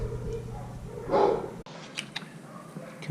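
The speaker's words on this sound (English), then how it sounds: "Sorry about the dogs." Dogs bark in a short burst nearby, a couple of loud barks mid-clip followed by fainter yips, with a person briefly speaking.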